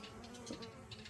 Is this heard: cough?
no